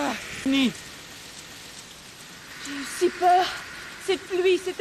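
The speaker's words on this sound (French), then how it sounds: "Cette pluie, c'est un miracle!" Steady rain pattering on surfaces in an animated cartoon, a constant background hiss beneath several cartoon voices calling out.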